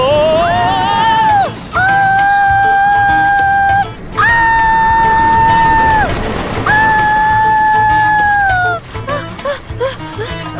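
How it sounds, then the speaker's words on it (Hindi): A woman screams again and again on an amusement ride, with long sustained shrieks broken by short pauses, loud and close over rumbling ride noise. "चिल्ला क्यों रही हो? डर लग रहा है मुझे।"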